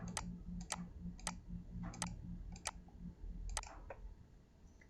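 Sharp clicks of computer keyboard typing, about seven separate keystrokes spaced roughly evenly, close and clear over a low steady electrical hum.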